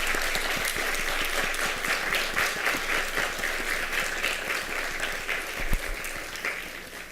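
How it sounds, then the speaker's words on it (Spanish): An audience at an academic closing ceremony for a linguistics course claps warmly for Judith, steady dense applause lasting several seconds and easing off slightly at the end. "Yo le daría un aplauso a ella"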